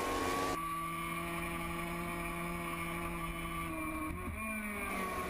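Racing motorcycles on a track at a MotoGP-style race, a steady high-revving engine drone that runs throughout with a brief shift in pitch near the end.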